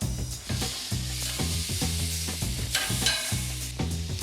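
Skirt steak in chimichurri marinade sizzles on an Argentinian parrilla grill, a steady close hiss and crackle with rhythmic knocking or scraping underneath, and no voices.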